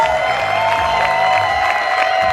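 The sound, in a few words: crowd applauding and cheering for volunteers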